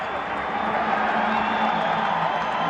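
A cricket crowd at a one-day international between Zimbabwe and India roars steadily in a dense, continuous wash of cheering and applause, broad and unbroken from start to finish.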